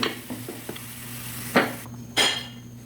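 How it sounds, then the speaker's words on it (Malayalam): A spoon stirs chicken fry in a pan, giving a few scattered scrapes and two sharper metallic knocks against the pan over a quiet background. "എന്നിട്ട് നമുക്ക് ഇതിൻ്റെ കൂടെ ഇളക്കി യോജിപ്പിക്കാവുന്നതാണ്."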